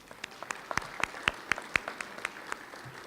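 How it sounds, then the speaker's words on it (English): Modest applause at a chamber of commerce breakfast briefing, a small group clapping in loose rhythm, individual claps distinct and fairly faint in a room, tapering off toward the end. "Let's give them a round of applause."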